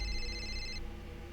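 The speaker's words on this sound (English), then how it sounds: "That's a mobile phone I hear, young man." A mobile phone rings inside the Code Lyoko IFSCL video game, a bright electronic ringtone that cuts off partway through over a busy game background.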